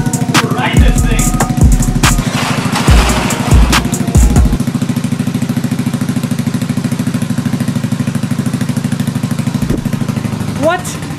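A rebuilt Honda Ruckus scooter engine runs at a steady, loud idle with a buzzing, even pulse, accompanied early on by clattering knocks and handling noises close by.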